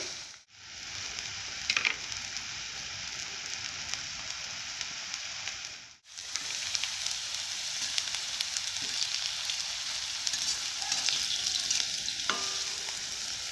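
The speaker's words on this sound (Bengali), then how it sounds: "এইভাবে ভেজে নিতে হবে সীমিতভাবে গ্যাসটা থাকবে" Banana fritters frying in oil over a low gas flame give a continuous soft sizzle, briefly dropping out twice before resuming steadily.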